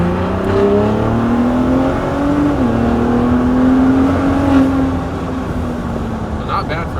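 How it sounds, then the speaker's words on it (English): A 2021 Ford F-150 Raptor's V6 engine revs in sport mode, a deep, steady drone that climbs as the throttle opens, dips briefly, then rises again before easing off, loud and continuous throughout. "I'll go ahead and let you guys hear the engine a little bit. We are in sport mode."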